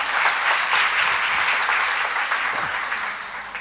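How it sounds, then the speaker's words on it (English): An audience applauds a Chancellor being welcomed at a formal event, producing dense, continuous clapping that stays loud throughout and then eases slightly toward the end, with no voices over it. "Please join me in welcoming him with a huge round of applause."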